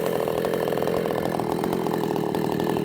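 A ported Jonsered 625 II chainsaw screams at steady high revs, loud and close, with a constant buzzing two-stroke drone and no voices.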